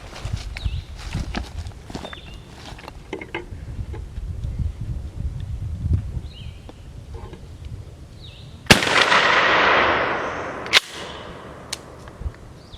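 One loud 12-gauge shotgun blast of Winchester Magnum 00 buckshot fired at a 60-yard target cracks sharply outdoors and rolls away in a long echo, then a fainter bang follows; quiet rustling and movement come before it.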